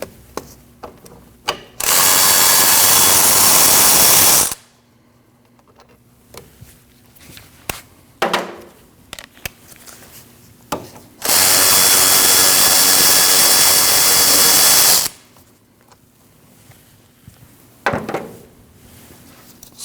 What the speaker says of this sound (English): We need to remove these 2 14mm bolts for our caliper and caliper bracket.